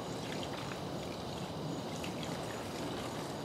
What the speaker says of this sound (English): let them rinse a bit